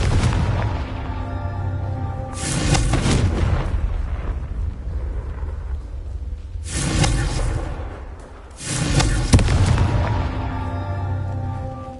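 Repeated Confringo fire spell bursts in Hogwarts Legacy, three loud booming explosions with whooshing tails spaced a few seconds apart over a constant rumbling game backdrop.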